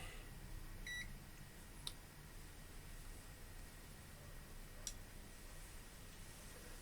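A short, faint electronic beep from a multimeter continuity test on a shorted RTX 3070 graphics card, followed by two sharp clicks over a steady background hiss.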